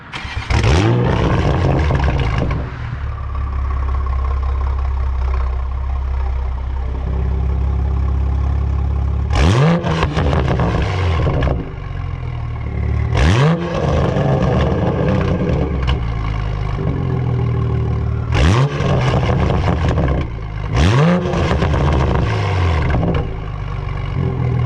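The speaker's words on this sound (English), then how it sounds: "It pops on the startups, it pops every time you rev it." A Toyota MK5 Supra with a Tomei Type-R single-exit titanium exhaust starts up loud and close in sport mode, then revs repeatedly in sharp bursts with exhaust pops, idling rumble between each rev.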